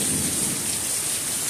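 Heavy thunderstorm rain pours down in a loud, dense, steady roar, with low rumbling from the storm underneath and no voices.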